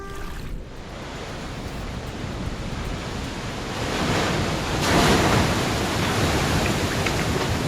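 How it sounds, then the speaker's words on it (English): Giant storm waves pound a seawall at Scituate, a continuous roar of surf and rushing water with wind buffeting the microphone, the crash swelling louder about halfway through. "giant waves slammed into the seawall and flooded homes"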